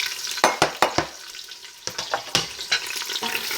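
Chopped onions are tipped into a hot pan for ratatouille and start to sizzle, with a few sharp clattering hits up front followed by a softer, steady hiss and intermittent stirring scrapes.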